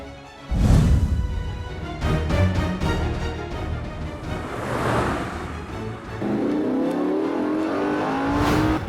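A car accelerates hard in a pursuit, its engine rising in pitch through several surging revs, loud and close, with road and wind rush underneath and no talk.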